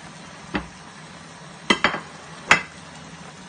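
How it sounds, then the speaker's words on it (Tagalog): Chicken tinola with papaya and malunggay stirred in a pot, a few sharp clinks and scrapes of a utensil against the pot over a quiet simmering background. "Hahaluin lang natin siya."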